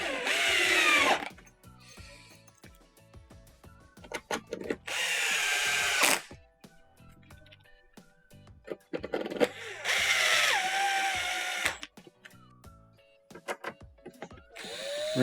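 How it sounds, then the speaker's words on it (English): A power screwdriver drives T10 Torx screws into a plastic dishwasher control panel on a KitchenAid unit, whirring in several loud bursts of a second or so, separated by quieter handling clicks. "Now you can go ahead and reinstall the T10 Torx screws into the control panel."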